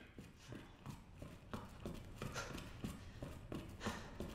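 Mr. X's heavy footsteps in Resident Evil 2 Remake sound as a steady, evenly spaced series of thudding steps, fairly faint against the game's background ambience.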